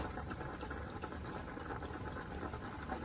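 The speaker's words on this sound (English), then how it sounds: "I'm just going to let this here simmer here" Lasagna sauce simmering in a home kitchen pot gives a steady, soft bubbling hiss that carries on evenly throughout, with no voices over it.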